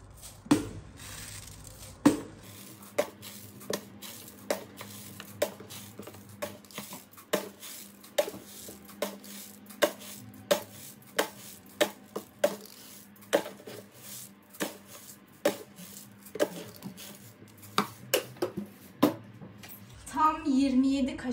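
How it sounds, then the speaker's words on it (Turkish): A spoon scooping uncooked rice for stuffed peppers, about two dozen evenly spaced clinks and scrapes against a bowl, close and fairly steady, one after another with no clear speech. "Tam 27 kaşık pirinç ölçüyorum."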